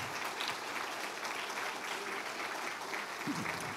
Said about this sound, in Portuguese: antes você vai aplaudir o nome de Jesus com muita força